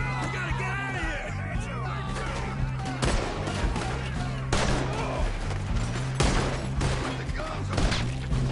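Repeated gunshots and bursts of gunfire in the Western video game Red Dead Redemption II, loud and irregular amid yelling and a busy mix of game sounds.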